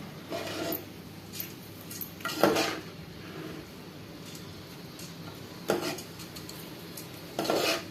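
Rice is stirred slowly in a pot for pulao, giving soft scrapes and a few clinks of a spoon against the metal in short bursts, with quiet gaps between strokes.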